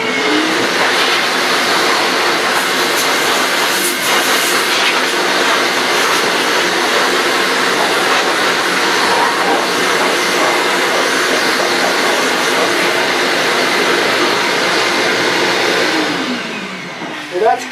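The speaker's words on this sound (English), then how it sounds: "Now let's blow it off and see if we got it all." Compressed air blasts steadily to clear wood dust off a cedar carving, a loud continuous rushing hiss that holds for many seconds before cutting off with a short final puff.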